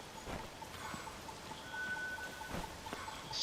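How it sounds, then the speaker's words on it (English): Rain falls steadily in Zelda: Tears of the Kingdom as a soft, continuous hiss, with scattered drop patters and a few faint distant rumbles beneath it. "it's good that it's raining"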